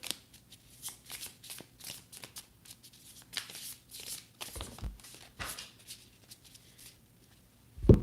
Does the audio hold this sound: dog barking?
no